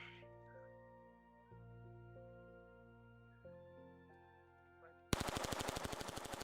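Rapid automatic gunfire in a video game starts abruptly after droning tonal game music, a loud, even string of shots near the end.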